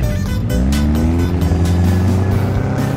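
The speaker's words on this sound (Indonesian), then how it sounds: "Ini kencang banget nih Ferrari ini." Ferrari engine in Euro Truck Simulator 2, loud and steady as the car accelerates, its tone climbing smoothly through a gear with a constant close drone.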